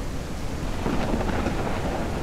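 Steady rain hissing down in the farming game Ranch Simulator, a dense continuous wash of drops with low rumbling beneath, heard alone without voices.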